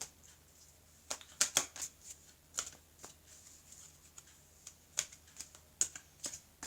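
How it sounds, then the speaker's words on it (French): Oracle cards shuffled and drawn for a tarot-style reading, heard as a run of crisp, close riffling clicks and snaps in irregular bursts, fairly quiet with no voice over them. "les cartes d'Isawat, pour compléter le tirage."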